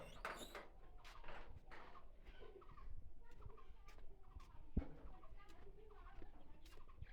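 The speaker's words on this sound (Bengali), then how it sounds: "এই হইতেছে মুরগি" Village chickens in a coop cluck and call intermittently at low volume, with scattered short squawks, rustling and faint background noise.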